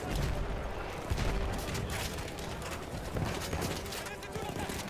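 Gunfire aimed at the player in the Battlefield 1 video game, dense rapid shots and crackling bursts running continuously under someone talking.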